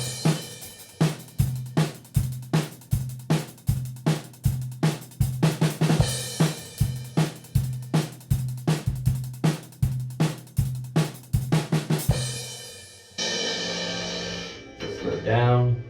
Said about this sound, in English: there's a snare kind of fill thing on the 4th measure that you'll see